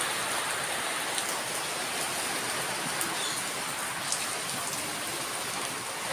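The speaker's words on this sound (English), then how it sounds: "Lovely bit of rain. Absolutely beautiful." Steady rain pours down in the Philippines, a dense, even hiss of drops on surfaces with a few brighter individual drips standing out, continuous and fairly loud with no voices.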